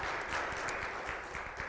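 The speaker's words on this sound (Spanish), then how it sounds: "Démosle un buen aplauso al Rey de Reyes." A church congregation applauds with steady, dense clapping throughout.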